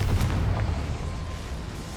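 The Confringo fire spell explodes in the video game Hogwarts Legacy, a loud, continuous rumbling blast that fills the whole moment and slowly eases off without fading out.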